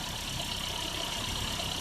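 A Renault Kangoo engine idles after piston ring replacement, giving a steady, even running rumble close by with no talking.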